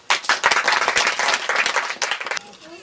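A church congregation at a wedding service claps and applauds in a dense, loud burst lasting over two seconds, with voices mixed in, then fading to quiet.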